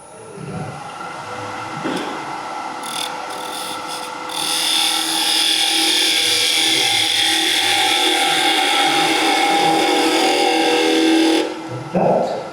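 Wood lathe spinning a spindle while a skew chisel takes a long cut along it, a steady close scraping hiss with a whining tone that swells midway and holds before the tool lifts off near the end.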